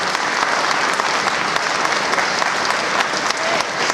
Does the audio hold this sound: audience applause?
yes